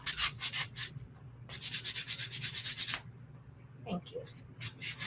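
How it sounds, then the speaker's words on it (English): Laser-cut puzzle letters sanded by hand, giving rapid back-and-forth scratchy rubbing strokes in two bursts, near and clear, with a short spoken remark toward the end. "I'm just sanding the last two letters"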